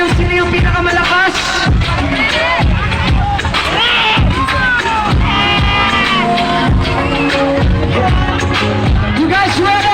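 A packed concert crowd at an outdoor live show in a sports complex in General Santos City, cheering, whooping and shouting loudly and continuously. A singer calls out over the roar with music and voices blending into a dense wall of noise.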